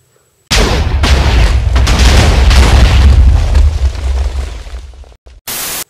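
A Minecraft TNT block detonates in a loud, sustained booming roar that fills several seconds before cutting off abruptly, followed by a short burst of noise.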